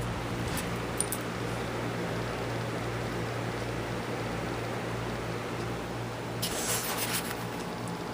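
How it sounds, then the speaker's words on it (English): An electric fan runs in a bedroom with a steady, close broadband whoosh and a low, constant hum, broken only by a few faint clicks and rustles near the start and end. "Here's my fan."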